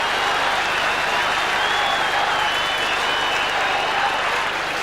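A football crowd at a 1991 Melbourne versus St Kilda match roars and applauds after a Saints goal, a dense, steady wash of cheering and clapping throughout, loud and continuous with no break.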